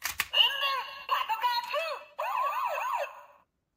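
A toy police siren wails in rising and falling electronic sweeps, with a short burst of chirps first, then two siren passages separated by a brief gap.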